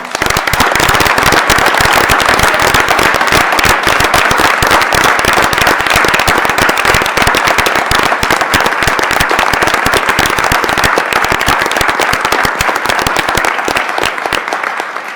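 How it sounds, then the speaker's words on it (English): Audience applause for midshipmen at a university board of regents meeting, loud, sharp and sustained clapping with crisp individual claps close by, steady throughout and easing slightly at the end. "Let's give them a round of applause."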